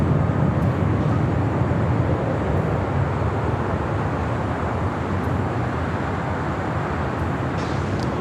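A Delta Airlines Boeing 757-200 roars continuously at LAX, a loud, broad engine rumble holding steady from some distance with no talk over it.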